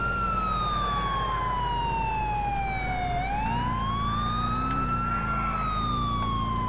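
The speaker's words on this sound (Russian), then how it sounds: "Вырубят эту сирену." Siren in the video game Grand Theft Auto IV, one long steady wail that slowly falls, then rises and levels off, loud and continuous over a low engine rumble, with no speech.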